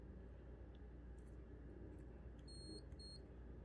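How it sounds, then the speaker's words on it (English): Two short, faint electronic beeps from the buttons of a Roddenberry Star Trek Tricorder Mark IX prop, quick high tones in succession over a quiet hissing background. "certain buttons actually make a beeping sound"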